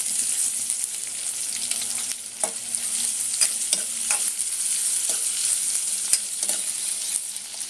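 Sliced onion sizzles in hot oil tempered with cumin and curry leaves for a bottle gourd bhaji over medium heat, a steady close frying hiss broken by occasional sharp scrapes and taps of stirring, with no talking.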